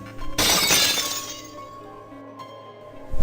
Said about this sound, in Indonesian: Vas bunga yang menjadi penghias meja tamu pun bergerak dengan sendirinya, melayang sebentar, lalu jatuh dan pecah berantakan